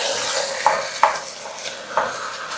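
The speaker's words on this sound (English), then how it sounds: "I like to give the meat a little bit of a sear with the tomato paste" Meat sears with tomato paste in a pot for Italian ragù alla napoletana while being stirred, a soft sizzle broken by several sharp spoon scrapes and clinks.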